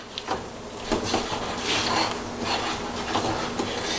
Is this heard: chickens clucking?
no